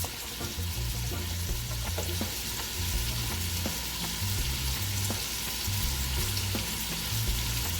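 Jackfruit sizzles and crackles steadily in a hot pan as it caramelizes, a constant close frying hiss with occasional pops and stirring sounds.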